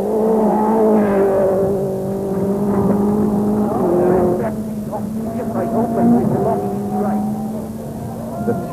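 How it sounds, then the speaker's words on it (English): A Toyota rally car driven by Juha Kankkunen at full speed on a gravel stage of the 1993 Rally Argentina, its engine droning and revving steadily with shifting pitch, close and loud beneath a commentator talking. "Juha Kankkunen driving flawlessly and right on the limit."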